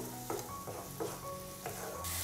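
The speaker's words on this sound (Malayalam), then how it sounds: "ഈ തക്കാളിയുടെ പേസ്റ്റും ചേർത്ത് കൊടുത്തതിന് ശേഷം വീണ്ടും നല്ല രീതിയിൽ എല്ലാം കൂടി ഒന്ന് വഴറ്റി കൊടുക്കണം" Tomato paste sautéing in a pan for an egg curry, a steady soft sizzle with a few brief stirring scrapes, close and continuous with no talking.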